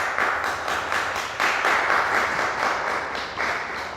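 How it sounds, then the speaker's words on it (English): A crowd applauding, with bursts of clapping that rise and fall in waves over about four seconds. "give him a round of applause."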